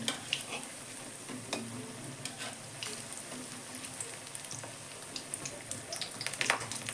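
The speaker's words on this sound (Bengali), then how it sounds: "দেখুন বন্ধুরা আমার বাঁধাকপির পকোড়া হয়ে গেছে চারটে দেখুন কত সুন্দর হচ্ছে ভাজাটা দেখুন" Cabbage pakoras fry in pungent mustard oil, giving a soft, continuous bubbling sizzle with scattered crackles and pops throughout, fairly quiet and without any talking.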